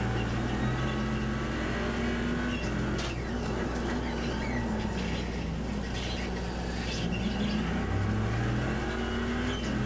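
A sim race car in iRacing at Laguna Seca accelerates hard down the straight, its engine tone climbing steadily through the gears with more cars droning nearby, loud and continuous without talk.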